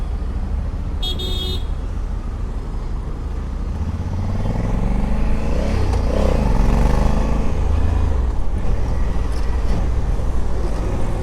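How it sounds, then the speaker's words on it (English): A 2020 Honda Africa Twin 1100 with manual gearbox is ridden in tour mode, its engine droning loud and close under heavy wind rush, revs rising and falling through the run, with a short horn-like beep near the start. "I feel like I'm riding a really light bike"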